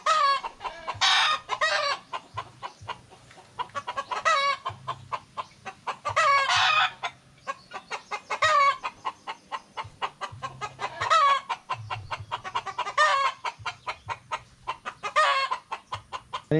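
Chickens cluck and squawk in close, repeated bursts, with a rooster's crowing among them, loud and busy across the whole stretch of a farmyard flock.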